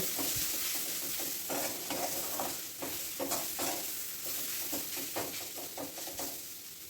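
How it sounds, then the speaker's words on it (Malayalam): Onions sauteing in a pan for an egg curry: a steady sizzle runs throughout, broken by repeated scraping stir strokes at an irregular rhythm, close and fairly quiet, with no talking. "ഇപ്പം ഇതാ നമ്മുടെ സവാള നന്നായിട്ട് വെന്ത് വന്നിട്ടുണ്ട് നല്ല സോഫ്റ്റായി വന്നിട്ടുണ്ട്"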